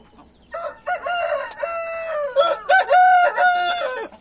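A backyard hen and other chickens call close by, loud drawn-out squawks and cackles rising and falling in several bursts, with no talk over them.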